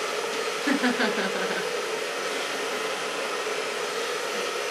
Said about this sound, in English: So now I'm going to blow dry the hair.